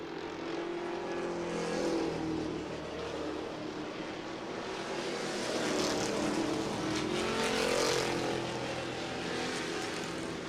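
Race cars, Crown Vics and compacts, roar steadily around a short oval at an Ohio short track, a continuous loud engine drone that swells and fades as the field passes.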